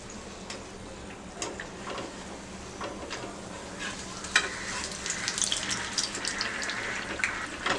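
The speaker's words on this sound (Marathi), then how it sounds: "तेलात सोडूया। आता स्लो ते मीडियम गॅसवर आपण हे फ्राय करून घ्यायचं आहे।" Corn bread pakodas frying in hot oil over a low to medium gas flame, a steady close sizzle with crackling pops that grows slightly busier toward the end, no voices.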